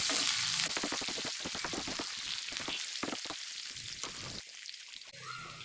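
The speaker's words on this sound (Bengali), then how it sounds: "এগুলোকে ভালো করে একটু ফ্রাই করে নেব।" Green chilies and whole garam masala (two cardamom pods, two cloves and a bit of cinnamon) fry in hot oil for a Bengali bhetki fish curry, giving a steady, close, hissing sizzle with faint crackles throughout.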